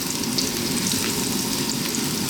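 Aromatics frying in oil for vegan mushroom fried rice give off a steady, loud sizzle with a bright hiss that holds evenly throughout, close up with no talking.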